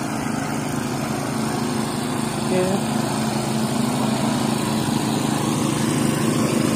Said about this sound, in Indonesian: di sini lagi pengeboran untuk Perumahan Pesona Kearifan 4-nya